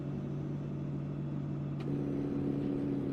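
An engine note from a Battle Truck mod in American Truck Simulator: a steady, loud droning hum that shifts to a slightly higher pitch partway through, with no talking.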